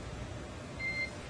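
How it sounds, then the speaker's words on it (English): Brief electronic beep tone on the SpaceX Dragon crew radio loop, a single faint steady tone lasting a fraction of a second over a low background hiss. "you'll be hearing those very characteristic beeps"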